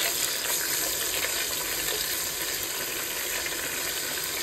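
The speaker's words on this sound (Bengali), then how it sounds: "এখন ওটার মধ্যে দিয়ে দিব একটু পরিমাণ মতো আদা রসুন।" Ginger garlic paste sizzling as it hits onions frying in a pan, a dense, even hiss that holds steady and close from start to finish, with no talking.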